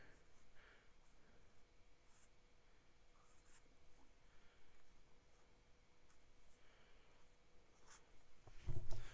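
RAW ebonite fountain pen with a music nib scratching across paper in soft, faint strokes, steady and close, ending with a brief louder rustle.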